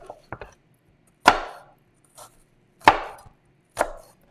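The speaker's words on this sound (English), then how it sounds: "Slice through, try to do it thin if you can, but if it's not, it's fine too. Just thin slices across." Knife cutting thin slices of a vegetable on a cutting board for spanakopita, a few crisp separate chops with pauses between them, close and clear, against a quiet background.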